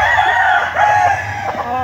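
Roosters on a chicken farm crow loudly and close, their drawn-out calls overlapping continuously through the moment with no talk over them.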